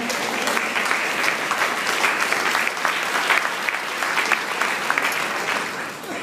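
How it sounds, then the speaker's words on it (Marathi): An audience applauds steadily at a Braille award ceremony, a dense patter of many hands clapping for about six seconds, fairly close and without pause. "त्यांच्यासाठी एक टाळ्या"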